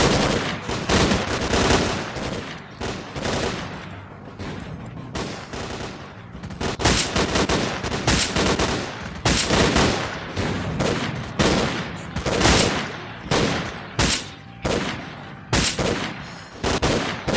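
Gunfire in S.T.A.L.K.E.R.: Clear Sky, a firefight of rapid automatic bursts and single sharp shots that crack repeatedly and loudly throughout, densely packed with only brief gaps.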